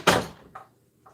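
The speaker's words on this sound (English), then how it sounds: "Ron, close my door." A door at home is pushed shut with one loud, close thump, followed by two fainter knocks or latch clicks as it settles.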